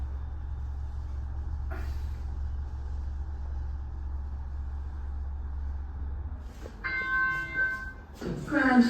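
An Evolution lift at Blanchardstown Shopping Centre sounds its arrival chime as a clear, close bell-like ding over a low machinery hum, followed by a rising mechanical rustle.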